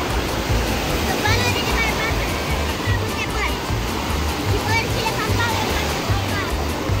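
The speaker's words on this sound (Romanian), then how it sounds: "Sunt mai mari valurile ca ieri, parcă, nu?" Continuous wash of sea surf breaking nearby on Golden Sands beach, a loud steady roar of waves with faint voices in the background.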